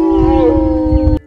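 A wolf sustains a single loud, steady tonal howl close up, with low rumbling noise underneath, cut off abruptly after about a second.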